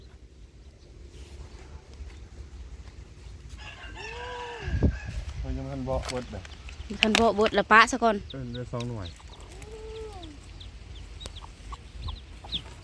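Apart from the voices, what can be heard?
chickens clucking and crowing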